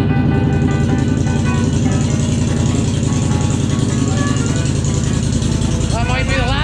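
A 2020 Polaris Scrambler XP 1000 S on its stock exhaust runs with a steady, loud, throbbing engine drone, close up and continuous, with a voice breaking in near the end.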